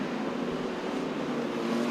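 Street stock race cars roar along the front straight at Latrobe Speedway during an A-Main, a dense continuous engine drone heard from a distance without letup.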